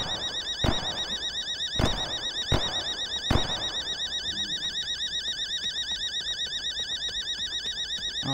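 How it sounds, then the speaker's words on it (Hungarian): A bank alarm in The Day Before rings continuously with a warbling, siren-like electronic tone, loud and steady throughout, punctuated by four sharp thuds or door-like knocks in the first half. "Na, majd elhallgat a riasztó."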